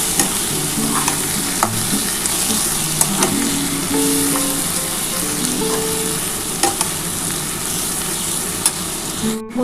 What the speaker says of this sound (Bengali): পেঁয়াজ, টমেটো ভেজে নিতে হবে